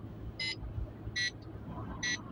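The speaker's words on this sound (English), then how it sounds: "If you are hearing a lot of beeps, keep at that area until the beep becomes less and less." Tuning software beeps during a Honda engine autotune with Flashpro, Kpro or S300 gear: three short, evenly spaced electronic beeps over a low, steady engine rumble.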